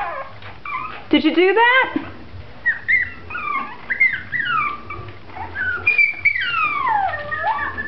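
A small Mi-Ki dog named Colby whimpers and whines in high, wavering, sliding cries, close by, with a person speaking softly over them.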